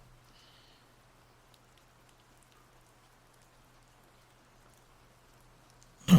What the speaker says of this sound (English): Nice sound of the rain to help you sleep by later.